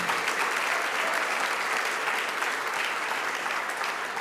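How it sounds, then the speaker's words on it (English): Steady, dense applause from a large crowd at a high school sports award banquet fills the whole stretch, loud and continuous without a break. "One more round of applause for Mr. Ray Kirshner."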